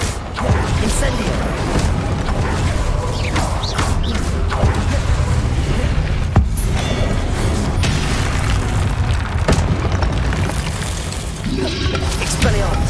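In Hogwarts Legacy, the Incendio fire spell is cast amid a busy duel, with dense, continuous booms, crashes and bursts rumbling loudly throughout.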